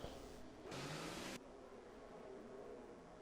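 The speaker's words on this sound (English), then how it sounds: "I think I can hear an engine." Williams car engine in a racing video game, a steady mid-pitched drone with a louder, brighter burst of revving early on before settling back to a constant hum, heard alone without talk.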